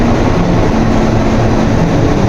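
A train carriage rumbles on the way to Shantiniketan, a loud, continuous low roar with steady mechanical drone and a faint rhythmic clatter, no voices.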